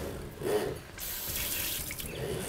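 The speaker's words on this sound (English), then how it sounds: "All from beautiful crystal clear water running down into the sink." Tap water running into a kitchen sink, a continuous close splashing rush that swells slightly partway through, with no speech over it.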